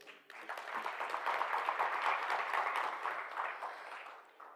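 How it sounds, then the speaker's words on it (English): A conference audience applauds panelists at a stakeholders' meeting, a fairly quiet burst of many hands clapping together for several seconds before fading out. "a round of applause for our panelists"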